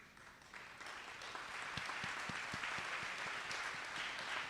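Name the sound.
audience applause for educators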